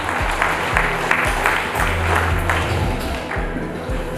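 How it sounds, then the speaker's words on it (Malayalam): Audience applause at a Metal Spot 10th anniversary gathering, continuous clapping from a crowd layered over a repeating low, thumping musical beat. "നല്ലൊരു കൈയടി കൂടി."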